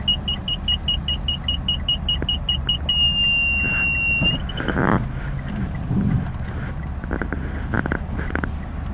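A car being parallel parked idles with a low engine rumble while a parking sensor beeps in fast regular pulses, then holds a continuous tone as the car closes in, followed by small thumps and shifting.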